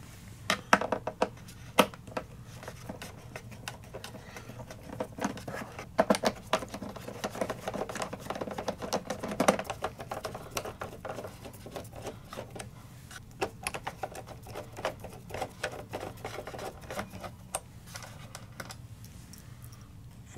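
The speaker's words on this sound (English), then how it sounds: "You remove those 4 screws, and that removes the foot from the PC." Screws being removed from the foot of an Acer 700G desktop PC, heard up close as dense, rapid, steady clicking and ticking that continues without pause.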